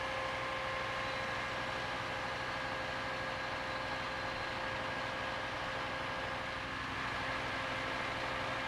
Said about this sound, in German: Jochen fährt die Leiter wieder zurück.